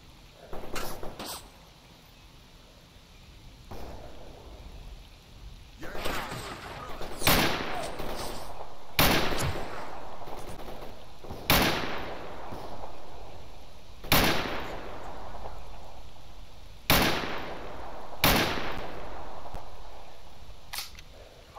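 The player's weapon fires in the video game S.T.A.L.K.E.R. Anomaly mod: about a dozen loud, sharp single shots spaced irregularly a second or more apart, each with a short echoing tail over a quiet outdoor ambience.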